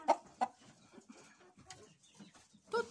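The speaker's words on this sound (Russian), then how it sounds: "Это так петушки зазывают курочек в гнездо." Soft low clucking from a few roosters calling hens to the nest nearby, short calls at irregular intervals, quiet overall.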